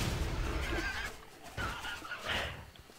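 Snorting, squealing grunts from an angry boar creature in the online game Tera, several short calls heard faintly alongside game ambience.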